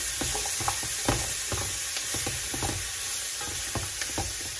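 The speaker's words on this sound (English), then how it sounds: "Stir that up." Roasting butternut squash sizzling in a pot as it is stirred, with soft repeated scraping strokes and steady frying crackle, close and fairly quiet, no talking.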